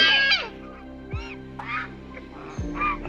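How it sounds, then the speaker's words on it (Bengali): Ducks roam freely in the open grounds near a palace pond in Murshidabad, giving several loud, nasal quacks in short bursts over a low background hum. "আর এখান থেকে খোলা ঘুরে বেড়াচ্ছে কিন্তু হাঁস"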